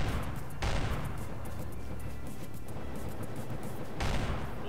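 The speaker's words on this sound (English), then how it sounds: "A lot of gunshots in the distance there." Distant gunfire in the online survival game Rust crackles in scattered bursts, with heavier volleys near the start and end and a steady hum of scattered shots between.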